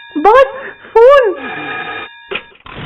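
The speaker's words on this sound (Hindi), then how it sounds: "Boss, phone." A telephone rings with a steady electronic tone beneath loud, emphatic voices talking in a dramatic scene, and the ring continues between their lines.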